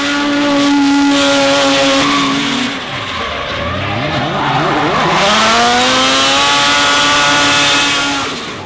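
Drift cars battling at a pro-am drift round in Taupo, including a rotary-powered Nissan 180SX, engines screaming loud and near with rising and falling revs and tire squeal through the slides.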